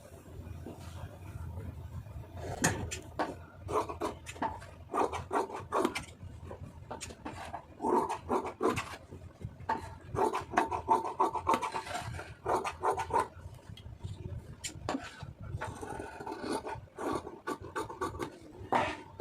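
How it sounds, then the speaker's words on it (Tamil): Scissors cut through cotton blouse fabric for the front panel with quiet, irregular snipping and rasping strokes against a table, close and faint. "இப்போ நம்ம வந்து ஃப்ரண்ட் பகுதி வந்து கட் பண்ணிடலாம்"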